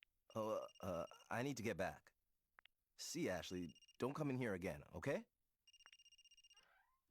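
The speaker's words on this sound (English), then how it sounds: "That's my phone." A phone in the video game Another Code: Recollection rings near the end with a short electronic trill, after several lines of clear speech.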